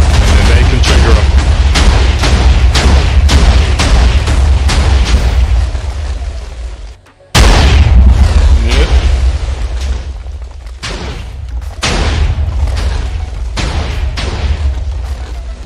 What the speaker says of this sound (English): The reason everything isn't destroyed is because explosion isn't that strong.